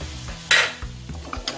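Onion and chayote sautéing in a pan, stirred with a wooden spoon, with a brief loud burst of sizzle and scraping early on, then quieter stirring and a few light clinks.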